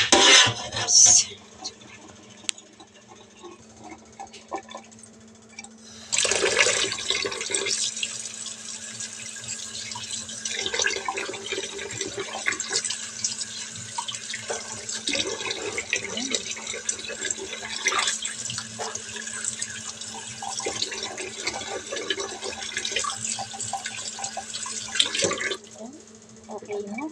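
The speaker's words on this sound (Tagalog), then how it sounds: "Pork, kailangan lang natin itong hugasan." Tap water runs into a kitchen sink while raw pork bones are washed for soup, a steady splashing stream that starts abruptly and continues close and loud for about twenty seconds before cutting off.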